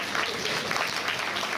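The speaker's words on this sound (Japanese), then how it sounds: "みんなでお嬢ちゃんにも応援の拍手を送ろうぜ。" An indoor audience at a Tokyo DisneySea show claps for a little girl, a dense, steady burst of applause from many hands, close and even throughout.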